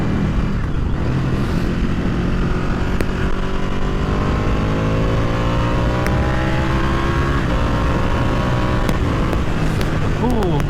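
Ducati Panigale 899 motorcycle with a quick shifter revving hard and pulling through the gears on the road, a loud steady engine roar with rising pitch sweeps and brief breaks at each shift, continuous throughout.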